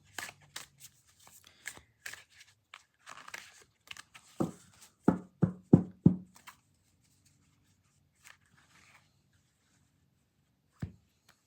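Game cards from a board game are handled and shuffled, with scattered soft flicks and slides building into a quick run of crisp riffle snaps, then a few isolated taps in a quiet room.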